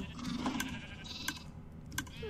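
Sheep bleating in Minecraft, a short wavering call near the start, followed by sharp clicks that sound like keyboard or mouse input, all at a moderate level with no talking.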